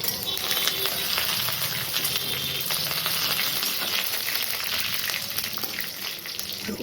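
Two green chillies hit hot oil with a loud, steady crackling sizzle that spits and hisses continuously, close up and without voices.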